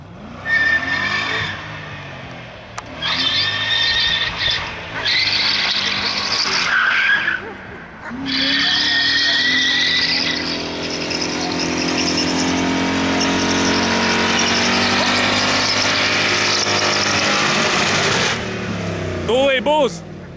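A BMW 540 with a 6-speed manual does a burnout, its tires squealing loudly and continuously, with bursts of engine revving between short gaps; voices can be heard in the background.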